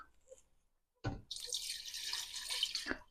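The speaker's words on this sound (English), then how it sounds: "In goes our wine." Wine pours into a cooking pan of Provençal chicken with mushrooms and tomato, a soft continuous splashing stream lasting about two seconds after a brief clink, fairly quiet and heard alone.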